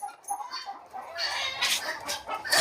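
Backyard laying hens on a home farm cluck in short, uneven bursts, fairly close, with a rising flurry of busier clucking toward the end and some background rustle; no one speaks.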